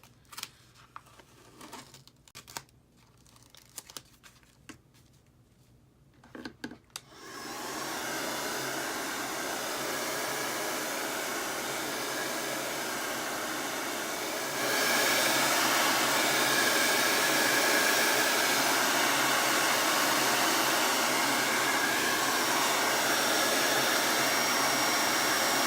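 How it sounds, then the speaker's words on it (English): Hair dryer blowing a burlap Santa dry, starting after some light handling clicks and rustles, then a loud steady roaring whoosh that steps up to a higher setting midway and keeps running. "we're going to lift this part up and blow it dry"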